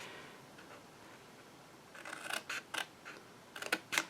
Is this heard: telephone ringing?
no